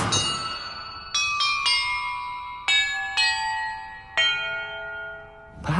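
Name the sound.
bells ringing in Hogwarts video game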